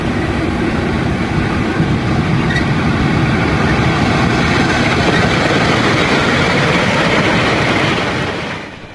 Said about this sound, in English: we go out and have a look at an L-class electric locomotive in charge of the train.